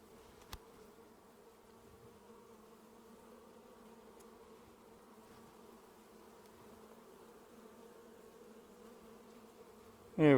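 Steady, low droning hum of many honey bees buzzing close by at a hive, continuous and even, with a brief click near the start and a louder rustle at the end.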